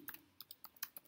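Quick light keystrokes on a computer keyboard as a short terminal command is entered, about eight crisp clicks in an uneven rhythm, close but faint, with no voice.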